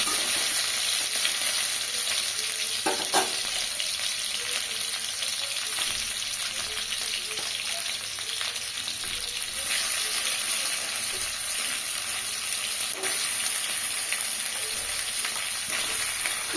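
Small fresh Ganges rohu fish fry in a little oil in a well-heated kadai, giving a steady, close, even sizzle with a few faint clinks and no talking.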